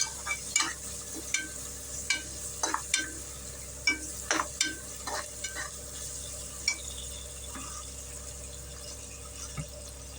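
Onions sauté in a pan for seeraga samba prawn biryani: scattered scraping and tapping stir strokes over a low sizzle with a faint background hum, moderately close and without speech.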